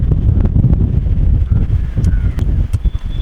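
Gusts of wind batter a microphone outdoors in windy, rainy weather, making loud, uneven low rumbling and buffeting with brief thumps and no voices.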